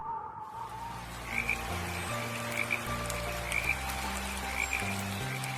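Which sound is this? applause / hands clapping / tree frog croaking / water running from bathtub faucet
tree frog croaking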